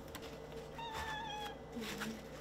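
A pet cat meows repeatedly while begging for freshly cleaned, descaled fish in a kitchen, its drawn-out, rising cries close and clear over light background noise and faint voices.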